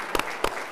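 Three quick hand claps, sharp and close, in a brief burst.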